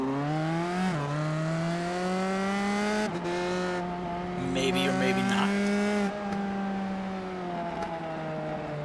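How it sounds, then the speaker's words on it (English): Open-wheel USF 2000 race cars at Watkins Glen rev loudly near turn 1, with sustained engine tones rising and falling and occasional tire squeal from burnouts, while a commentator talks over the noise. "we're going to see some burnouts here in turn 1 like we usually do"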